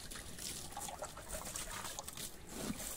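Water is sprinkled over salt and charcoal packed into a home earthing pit, giving a soft, continuous trickle and patter at low level.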